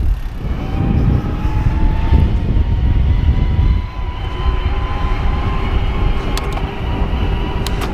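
Steady mechanical drone from a BESV TRS1 electric bike motor, with a low rumble and faint tonal whine, continuous throughout, fairly close and loud, no talking.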